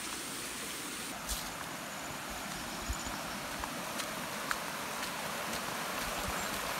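Steady rain hisses evenly throughout, with a few louder drips and taps standing out now and then; no voices.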